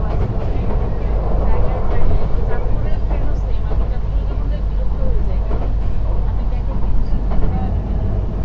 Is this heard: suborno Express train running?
yes